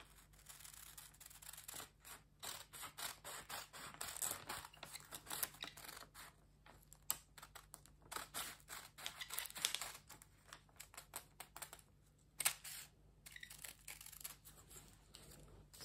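Scissors cut out a paper corset pattern with a Basque waistline: faint, close snipping and crinkling in irregular bursts, with paper rustling between cuts and no speech.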